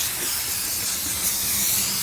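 Steady, close hiss of a steam cleaner spraying through a narrow nozzle into a corner of a car interior, continuous and even with no talking.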